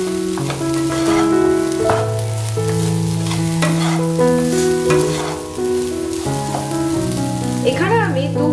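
Shyama rice khichuri with black pepper being stirred in a pot, a continuous close scraping and sizzling under steady background music.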